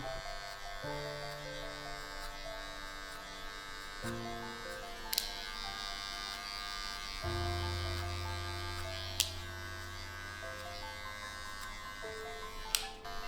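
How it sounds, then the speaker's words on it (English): Hair clippers with no guard trimming a skin taper during a mullet haircut: a steady, fairly quiet electric buzz that runs continuously and shifts pitch slightly, with a few faint clicks and no talk. "Come back with our clipper with no guard."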